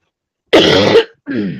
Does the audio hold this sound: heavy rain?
no